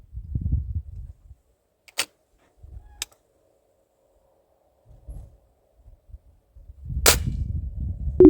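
An old pellet air rifle fired at a wooden plank: three sharp, isolated cracks spaced a second or more apart, with low thumps and handling noise between them.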